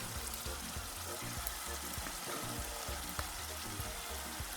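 Ingredients fry in a pot for gbegiri soup with a soft, continuous sizzle and light crackling, fairly quiet and even throughout.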